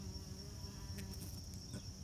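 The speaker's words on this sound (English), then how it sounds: "There are a few bees here in the empty side of the hive." Honeybees drone around the empty side of a Layens beehive on a warm day, a faint, steady buzz with a couple of brief louder passes close by.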